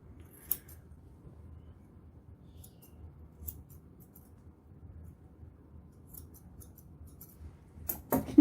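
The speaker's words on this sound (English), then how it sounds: "I'm just trimming along the lips there." Scissors snip along the lips while trimming a standard poodle's mustache, giving a few quiet, sparse clicks near the microphone over a low, steady background hum, with a louder rustle at the end.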